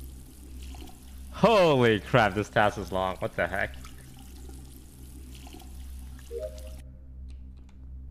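Shower water running during a task in a video game, a steady hiss of water under a person's loud, excited talking, which stops abruptly near the end.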